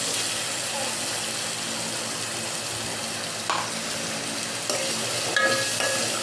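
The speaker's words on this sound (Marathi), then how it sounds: "आपण जे कांदा लस कांदा आणि टॅमॅटोचं वाटण वाटलेलं आहे ते आपण टाकून घेऊया" Onion-tomato paste goes into hot oil in a pan for a Marathi chicken rassa, giving a steady close sizzle with stirring and a few louder scrapes and clinks near the end, under faint background hum.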